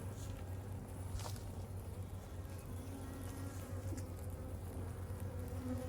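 Honeybees buzzing around a nucleus hive outdoors, a steady, continuous insect drone a short distance away with no talk over it.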